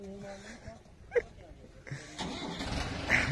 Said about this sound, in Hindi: ले भाई अर्जुन महिंद्रा स्टार्ट हो गया